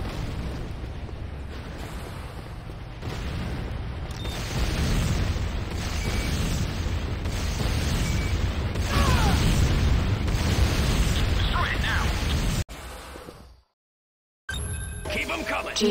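A GDI power plant blows up in the game Renegade with a long, loud, rumbling explosion. The roar rolls on for several seconds with crackling bursts, then cuts to brief silence before the game sound returns.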